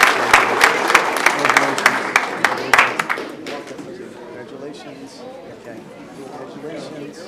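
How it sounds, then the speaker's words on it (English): Clapping from the audience at a city council meeting comes in a loud burst with some sharp individual claps, then fades after a few seconds into murmuring crowd chatter and voices. "let's give them another round of applause, please"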